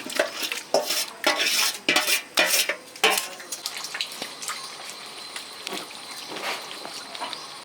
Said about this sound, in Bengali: আমি কষানো চিকেনটা আবার কড়াইতে দিয়ে দিচ্ছি